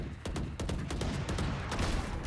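Video game gunfire: a fast burst of repeated automatic shots, dense and loud against a continuous noisy backdrop, with no talking.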